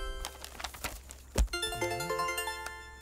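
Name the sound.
phone ringtone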